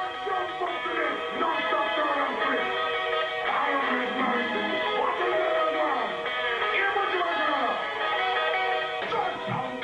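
Jungle track sampling a reggae artist, from a compilation, recorded from a 1994 broadcast. Dense, continuous music with layered tones and vocal-like swoops plays steadily at moderate level throughout, with no talk over it.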